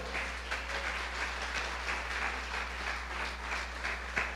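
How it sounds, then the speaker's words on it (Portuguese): A church congregation claps together, a steady, slightly distant wash of applause with a low hum beneath it, and no voices heard. "Você pode dar uma salva de palmas ao Senhor?"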